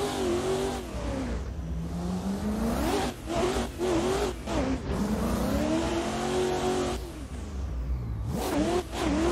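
A BMW M4 G82 engine revs and pulls through gears in a racing game driven with a wheel, its loud mid-pitched drone rising and falling with throttle lifts and shifts, no voices over it.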